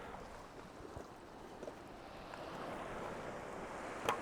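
Ocean surf washing onto the shore at Ballyliffin, Ireland, a steady, fairly quiet wash of water with soft wind buffeting and one brief knock near the end.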